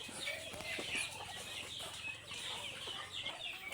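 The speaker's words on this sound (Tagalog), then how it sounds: "Yan po ang ating bibe." Farmyard ducks kept at a rural Philippine home, near and fairly loud, giving busy quacking and clucking calls that overlap continuously against a steady outdoor background.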